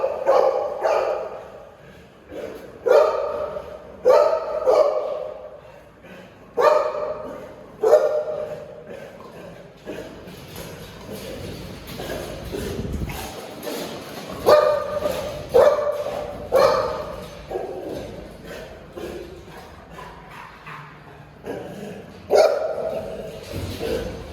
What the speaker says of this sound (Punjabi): ਇੱਥੇ ਸਾਡੇ ਕੋਲੇ ਬਹੁਤ ਸਾਰੇ ਡੌਗ